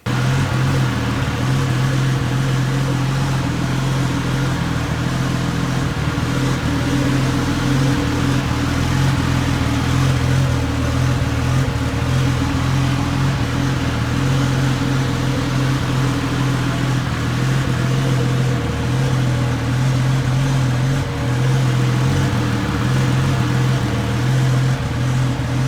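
Car engine idling steadily after a turbo replacement, a continuous low droning hum with no revving, heard alone and fairly close for the whole stretch.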